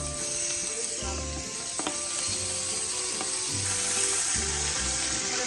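Boneless pork ribs searing in a pan, a steady close sizzle and crackle of frying meat with faint clinks, continuous throughout.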